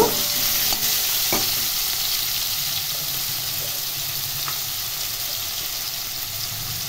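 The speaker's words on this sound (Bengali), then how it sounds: "এর মধ্যে টুকরো করে কেটে রাখা আলু দিয়ে দিলাম। আলু অল্প ভেজে নেব।" Cut potato pieces fry in hot oil with a steady, dense sizzle that runs throughout, broken by a few light clicks from stirring.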